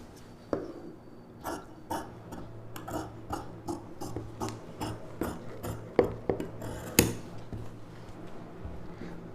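Scissors cutting fabric for a puff sleeve on a girl's paavadai sattai: a series of separate sharp snips and rasps, close and fairly quiet, spaced irregularly over several seconds.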